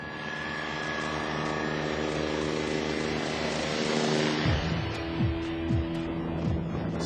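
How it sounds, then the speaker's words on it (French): Firefighting rescue helicopters fly nearby with a loud, steady rotor and engine roar, rising and then easing as the aircraft pass, and no one speaks. "40 hélicoptères interviennent par tous les temps"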